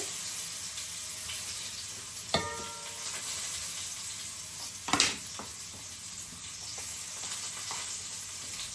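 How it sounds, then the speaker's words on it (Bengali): Potato and eggplant frying with fish in a pan give a steady, soft sizzle throughout, broken by a sharp clink near the middle and a louder scrape and stir a few seconds later. "আলুটি একটু ভাজা করে নিই আর এখানে বেগুনটাও ভেজে নিলাম মাছের সাথে"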